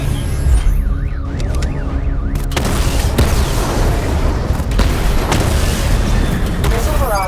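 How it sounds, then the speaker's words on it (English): Weapon fire and booming impacts as targets are destroyed during a Batman: Arkham Knight diagnostic stage, with dense, continuous blasts and mechanical clatter, plus a brief oscillating alarm-like tone early on. "Destroy targets to charge up weapon energy and activate missile barrage."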